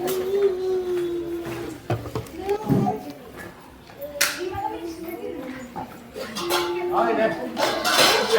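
Metal pots and dishes clink and clatter intermittently amid a busy crowd at a housewares sale in Sangola, with voices chatting throughout and occasional louder knocks.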